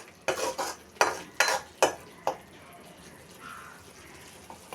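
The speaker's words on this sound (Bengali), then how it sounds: "তেলে দিয়ে দিলাম, নেড়ে চেড়ে কষিয়ে নিচ্ছি" A spoonful of spice paste made from ground onion, turmeric, chilli, salt and cumin is stirred in hot oil: several sharp scraping knocks of a utensil on the pan come first, then a softer, steady sizzle.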